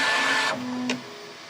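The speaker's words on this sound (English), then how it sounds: "We'll let it do its final official finish. It cleans off the nozzle." A Bambu Lab P1S 3D printer wipes its nozzle clean at the end of a print, giving a brief whirring mechanical buzz that cuts off into a steady quieter motor hum with a short scraping swish.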